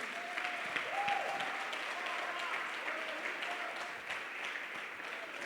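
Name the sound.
church congregation applauding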